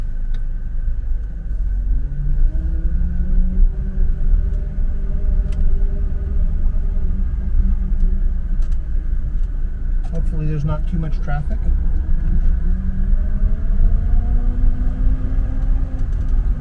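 A 1965 Mercedes-Benz 250SE with a manual 4-speed transmission drives along, its engine rumbling steadily and rising and falling in pitch through gear changes, heard from inside the car while someone talks over it.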